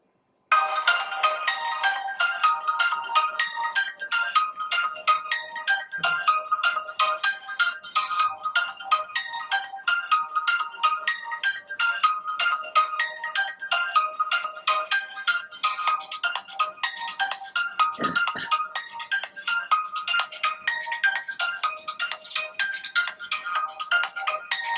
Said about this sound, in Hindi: एक और रिंगटोन को प्ले करते हैं दोस्तों।